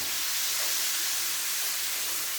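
Steak searing in a hot pan, a steady broadband sizzle and hiss with no pauses, fairly faint and close, with no talking.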